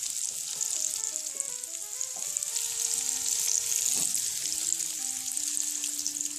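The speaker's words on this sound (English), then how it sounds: "you can probably hear them sizzle" Dumplings fry in a pan with a steady, close crackling sizzle of hot oil throughout, dense spitting pops and a few faint clinks of cookware. No talking.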